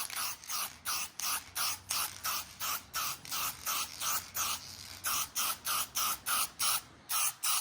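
Light first coat of spray paint going onto exhaust tips, heard as a steady run of short, even hissing bursts from an aerosol can, close and fairly loud with brief gaps between each pass.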